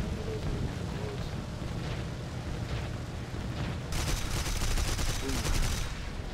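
Rapid bursts of 20mm cannon fire from a Dornier 217 J1 heavy fighter in War Thunder, dense and continuous over roaring engine noise, growing brighter and more intense in the second half.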